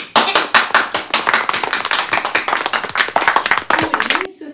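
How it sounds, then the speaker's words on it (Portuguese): Hands clapping in quick, uneven bursts close to the microphone, a dense run of sharp claps from one or a few people, loud and continuous, with speech present alongside. "Meu Deus, palmas!"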